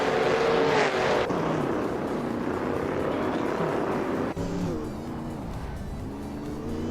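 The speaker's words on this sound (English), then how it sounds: "Beef Sliders is driving a Plymouth Roadrunner" Plymouth Roadrunner race car in a racing video game, its engine droning steadily with shifting pitch and a sudden break in tone midway, loud and continuous with no talking.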